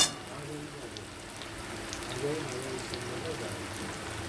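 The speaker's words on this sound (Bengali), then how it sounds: "পেঁয়াজটা একটু ভেজে নেব আগে" Onions frying with salt in a pan while chicken is being cooked, giving a steady, faint crackling sizzle with scattered pops that runs through the whole stretch.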